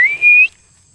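A single short, bright whistle from a person calling someone outdoors on rural land: one sustained, slightly rising tone lasting about half a second, loud and close, then silence.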